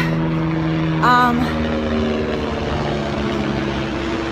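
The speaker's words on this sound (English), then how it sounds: "A helicopter bright and early." A helicopter drones overhead with a steady, throbbing rotor hum that fills the whole stretch; a brief short voice-like sound breaks in near the start.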